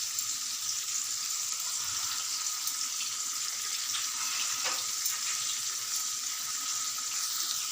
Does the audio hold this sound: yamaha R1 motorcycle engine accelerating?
no